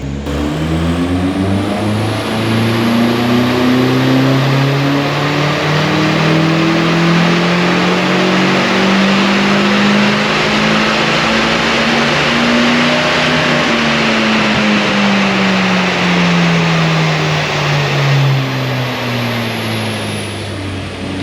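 Nissan SR20 engine in an N14 car on a dyno run, revving loudly and steadily climbing in pitch for about thirteen seconds before the throttle lifts and the engine winds down, heard up close without talk.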